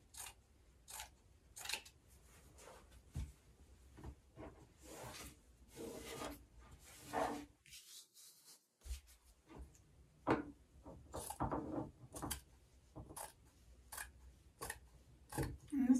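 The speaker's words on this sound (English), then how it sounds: "I'm going to cut it so I have plenty of it." Scissors snip through a piece of material for spring decor, with a series of short crisp cuts and rasping rubs that come in irregular bursts, fairly close and quiet.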